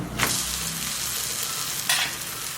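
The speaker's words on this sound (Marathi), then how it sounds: "असं तेल सोडायचं मग चांगलं भाजतं याला पलटी करून घेऊ" Thalipeeth flatbread frying in oil on a pan, a loud, close, continuous sizzle with two sharp bursts where oil hits the hot surface or the bread is moved, no voices.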